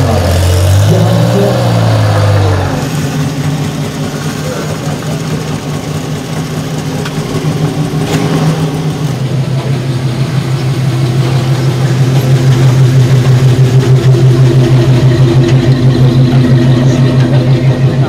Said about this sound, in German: Unsere Motorkutsche ist nach wie vor gut gelaunt unterwegs.